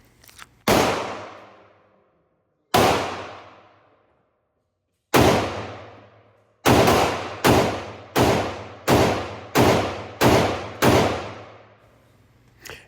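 A Meta Tactical carbine fires 10mm rounds outdoors: three separate loud shots, then a quick string of seven, each sharp report trailing off in a short echo.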